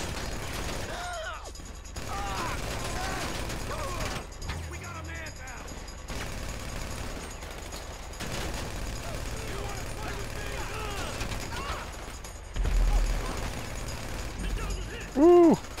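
Gunfire in the video game GTA during a shooting mission: bursts of rapid shots and mechanical clatter under continuous game sound and a talking player, with heavier blasts near the end.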